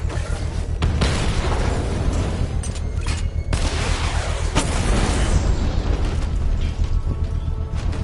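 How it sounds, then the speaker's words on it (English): In Batman: Arkham Knight, a bomb explodes in a sustained barrage of heavy booms and crackling bursts, dense and loud for the whole stretch with sharp blasts rising out of the roar. "I can use the power winch to trigger a controlled explosion"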